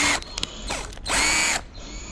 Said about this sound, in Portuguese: Então eu vou posicionando as hélices e aí já vou furando a garrafa PET.